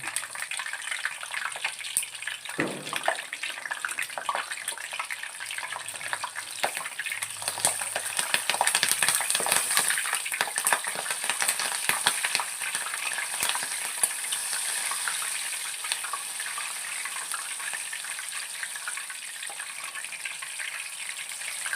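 Steady, bright sizzling of cut green chillies frying in hot oil in a slotted ladle, continuous and close, with occasional stirring clinks and no talking.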